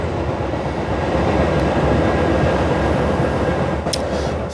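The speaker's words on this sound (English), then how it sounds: "That's the train going by." A train rumbles past close by in Illinois, loud and steady throughout, with a constant roar of rolling wheels on rails and a couple of brief high metallic squeals near the end.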